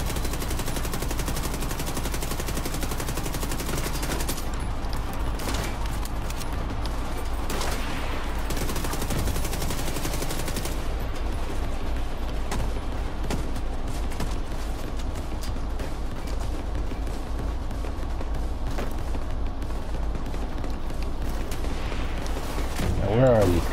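Continuous loud automatic gunfire from a heavy-recoil gun in the shooter game The Division 2 rattles on for the whole stretch, dense rapid bursts with explosive booms over a constant battle din.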